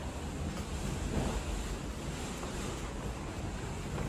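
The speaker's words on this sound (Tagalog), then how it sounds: "Grabe ang hangin" Strong Typhoon Tino wind roars in a dense, unbroken rush, with heavy buffeting across the microphone and a surf-like wash that holds loud and steady throughout.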